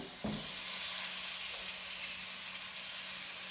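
Food laid bottom side down into a hot pot sets off a bright, continuous sizzle and hiss, opening with a short thump of contact and staying steady and fairly quiet.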